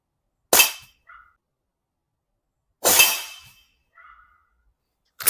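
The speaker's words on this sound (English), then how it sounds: "Do not attempt to recreate anything you are about to see in the following footage of this person shooting his air rifle." Two sharp air rifle shots ring out a couple of seconds apart, each a loud crack with a brief decaying tail and a small metallic ping after, then the start of a third shot at the end, with no talk.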